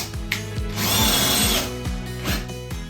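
A power drill drives screws into a board, its motor whining loudly in repeated short bursts that rise and fall, with a long sustained run in the middle, close up.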